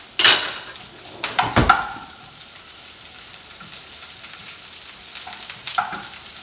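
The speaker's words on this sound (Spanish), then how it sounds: "voy a poner la cebolla nomás para que agarre un poquito de sabor." Onion frying in a pan with oil for a breakfast in red salsa, a steady soft sizzle with a few sharp clinks and scrapes of a wooden spoon near the start and end.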